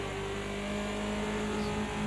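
A BMW 2002 Turbo race car at Bathurst in the game Project CARS 2 accelerates with a steady, loud engine drone that holds for about two seconds, with no talking.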